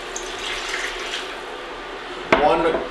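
Water pours into a pan while making sauce for German potato salad, a steady running, faucet-like wash that ends in a sharp splash and bubbling rush near the end.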